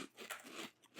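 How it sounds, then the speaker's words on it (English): Woven lattice sweet potato kettle chips with sea salt are bitten and chewed near the mic in a few crisp, faint crunches. "Good crunch."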